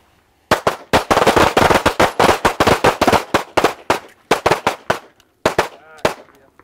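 Pistol shots from a shooting drill: loud, close, sharp cracks fired in rapid strings and bursts with short pauses between groups.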